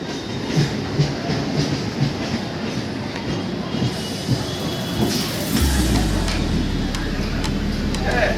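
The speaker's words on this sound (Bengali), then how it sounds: "এই সাইডে হাওড়া যাওয়া ট্রেন এসে গেল আবার একটা।" A Howrah-bound train rumbles into a station at Chandannagar, its steady clatter growing heavier and lower toward the end, with faint voices in the background.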